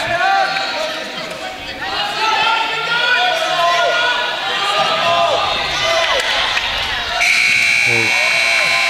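A buzzer sounds at a high school wrestling match, heard amid steady crowd noise in a gym with commentators talking throughout.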